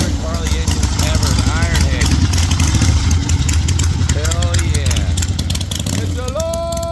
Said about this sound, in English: One of my favorite Harley engines ever,